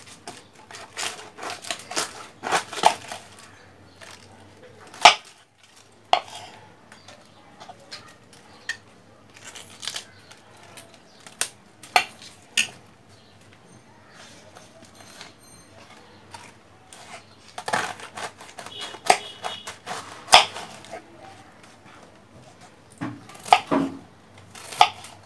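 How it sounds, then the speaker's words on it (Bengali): A knife chops cabbage on a cutting board in rapid, close, rhythmic strokes, with short pauses between bursts of cutting. "এইভাবে পাতাকপিগুলো কেটে নিতে হবে, বেশি মোটাও না, বেশি চিকনও না।"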